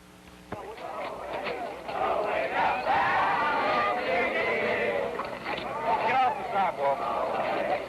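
A segregation-era crowd outside a high school heckling passing Black students, a loud mass of jeering shouts and babbling voices rising after a quiet start and continuing unbroken, somewhat distant and muffled.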